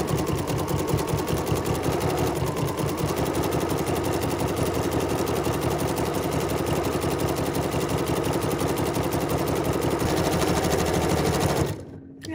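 A sewing machine hums at a steady fast pace while overcasting the edge of a decorative stitch book, its needle chatter unbroken for nearly the whole span before cutting off abruptly near the end.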